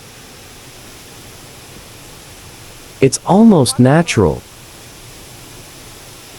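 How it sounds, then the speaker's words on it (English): A forest waterfall on a stream pours with a steady, even rush of water throughout, and a person briefly speaks over it midway. "This is a waterfall on top of the same stream."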